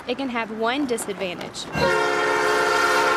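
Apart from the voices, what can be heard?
train horn near railroad tracks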